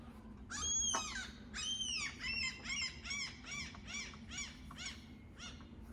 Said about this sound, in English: Imagine the sound of these birds as being relaxing.